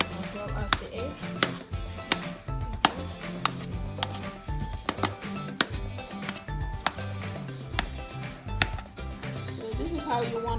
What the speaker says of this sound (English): I'm going to cut all of them like that, as well as the eggs.